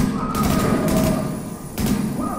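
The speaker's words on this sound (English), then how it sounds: "We'll let the explosion finish them off." An explosion in Tom Clancy's The Division unfolds as a loud, dense rumble with sharp crackling bursts layered over it, continuing for a couple of seconds.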